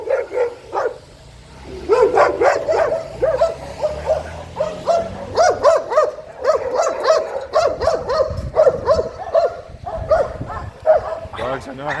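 Dogs bark over and over in short, sharp bursts, some yips and whimpers mixed in, fairly close and loud, while a voice talks intermittently alongside them.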